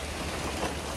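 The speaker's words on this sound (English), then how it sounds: "it started raining. And thunder and lightning." Steady rain pours during an August rainstorm at a house, a dense continuous hiss of drops on surfaces, close and even throughout with no voices.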